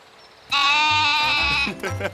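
A single drawn-out, wavering bleat of a goat, loud and close, lasting over a second before trailing off into a brief second cry.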